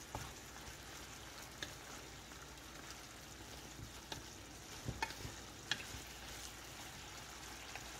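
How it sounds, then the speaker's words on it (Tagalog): Pork and peppers being stirred with soy sauce in a hot pan, a faint continuous sizzle with scattered light clicks and scrapes from the utensil, quiet and steady with no talking. "mix it well again"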